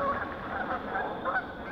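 Geese honk on a stagnant pond, a few faint, nasal calls repeating at a distance over quiet background.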